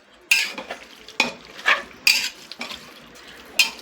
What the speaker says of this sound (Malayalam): ഇതൊന്ന് മസാലയ്ക്ക് പിടിക്കുന്ന രീതിയിലൊക്കെ നന്നായി ഇളക്കി സെറ്റാവണല്ലേ